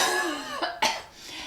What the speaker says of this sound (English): it's still got that leftover irritating, like something's in my throat cough